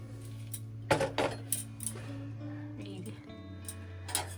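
A ladle clinks and scrapes against a pot, stirring food with a bay leaf, in a few irregular metallic taps over a low steady hum while people talk nearby.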